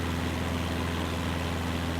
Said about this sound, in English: I powered up the RPMs a little bit.